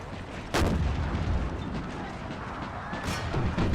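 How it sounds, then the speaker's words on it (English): Napoleon cannons fire in Empire: Total War with the Brothers vs. Brothers mod, two sharp loud booms a few seconds apart that echo over a continuous battle din. "Napoleons fire down on the infantry."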